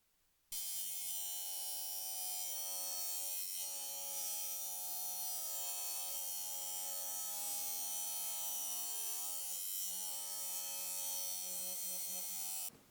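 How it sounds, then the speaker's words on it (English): An abrasive wheel on a surface grinder slits a steel collet, giving a steady, loud, even whine that holds unbroken for about twelve seconds before cutting off. "I slit the first side of the collet using an abrasive wheel and a surface grinder"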